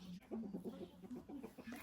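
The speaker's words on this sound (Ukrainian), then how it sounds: "Курочка Араукана." Araucana hen clucking up close, a quick run of soft, rhythmic clucks and murmurs filling the short moment.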